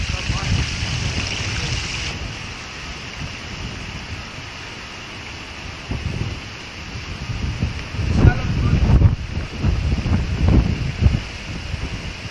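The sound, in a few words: wind blowing outdoors at water purification works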